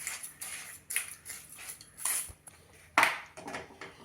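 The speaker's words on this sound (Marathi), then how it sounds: "आता आपल्या प्रेशर कुकरमध्ये हे पातेलं ठेवायचे आहे" Several light metallic clinks and knocks, one sharper clang near the end, as a metal pot is set down into a pressure cooker and shifted against metal.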